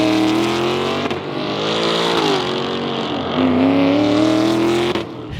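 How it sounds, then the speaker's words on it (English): A 2025 Ford Mustang FP800S engine and exhaust roar loudly up close, the tone climbing and dipping as it revs, easing briefly, then rising again before cutting off near the end. "it sounds really good for a factory Mustang."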